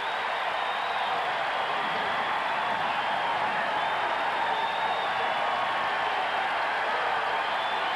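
Large basketball arena crowd of about 12,525 at an Indiana vs Kent State college game roaring steadily, a dense, sustained wash of cheering and clapping with no clear breaks.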